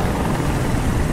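A helicopter approaches in the video game Detroit: Become Human, a loud, continuous rotor roar filling the scene alone, dense and steady with a rapid chopping texture.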